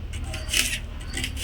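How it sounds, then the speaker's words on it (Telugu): A knife cuts raw beetroot into pieces for beetroot chapati, making soft, repeated scraping and crunching strokes at close range over a low steady hum. "ఫస్ట్ బీట్రూట్ని ఇట్లా ముక్కలు చేసుకుందాం."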